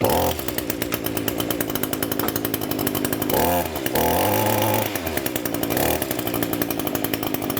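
A two-stroke weedeater engine idles steadily after warming up, a loud, close, buzzing drone with a fast regular pulse and a few brief dips and surges in pitch, no voices over it.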